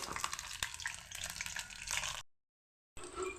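Stuffed bottle gourd leaf rolls frying in a pan, a dense crackling sizzle with small pops that cuts to silence for a moment and then resumes, with no speech.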